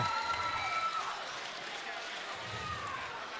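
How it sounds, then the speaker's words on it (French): Crowd applause and cheering for two teams at a sports event: a steady wash of clapping and crowd noise throughout, fairly even in level, with a few whistle-like tones early on. "Une bonne main d'applaudissements, messieurs."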